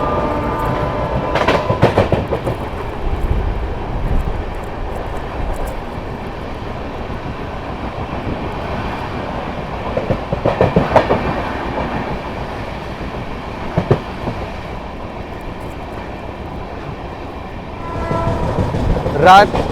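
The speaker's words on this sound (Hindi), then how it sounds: "न्यू दिल्ली रांची गरीब रथ एक्सप्रेस दोस्तों।" The New Delhi–Ranchi Garib Rath Express rolls past at speed, a continuous loud rumble broken by repeated rhythmic wheel clacks throughout.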